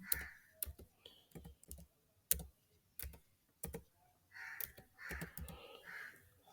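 Scattered keystrokes on a computer keyboard, sharp isolated clicks in an uneven rhythm with brief gaps, close but quiet, alongside a few faint tonal blips.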